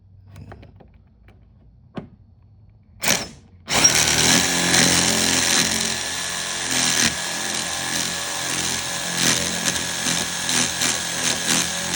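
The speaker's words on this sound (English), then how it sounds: "I'm gonna drill this hole through here." A power drill bores a hole through a house wall during a home wall-connector install, starting after a few faint knocks and then running loud and steady with slight load changes throughout.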